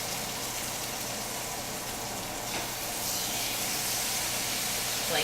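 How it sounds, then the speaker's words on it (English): A seasoned ground turkey burger patty searing in a hot pan, a steady loud sizzling hiss that stays even and close throughout. "So put your seasoned side into the pan first. You should hear a really nice sear."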